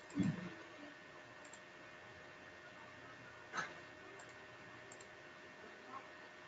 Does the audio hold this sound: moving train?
no